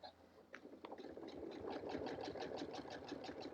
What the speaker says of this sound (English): We're going to sew this down all the way around.